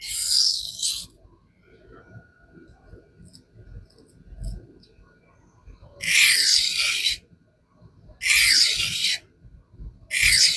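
Knife of CPM S110V steel drawn across a coarse 400-grit vitrified diamond sharpening stone, heard as four separate gritty rasping strokes, each about a second long except a short final one, with quiet gaps between them.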